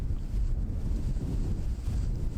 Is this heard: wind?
yes